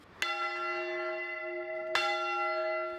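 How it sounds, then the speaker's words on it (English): Church bells nearly 300 years old ring out in two clear, loud strikes about two seconds apart, each leaving a long, bright ringing hum that sustains between them. "The bells are nearly 300 years old."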